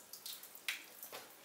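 Water draining from a classic barn-find car radiator onto a workshop floor, a faint irregular trickle and splatter with brief splashy bursts, close and quiet.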